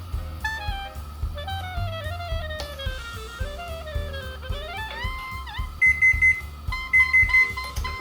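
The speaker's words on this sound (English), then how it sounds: "that's the sound of our cake being done" Kitchen timer alarm goes off as a cake finishes baking, giving a loud electronic ringing with shifting, warbling tones and repeated beeping bursts near the end, close and alone.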